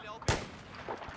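A single sharp gunshot in Battlefield 4, loud and close at the start, with a faint voice and quieter game noise after.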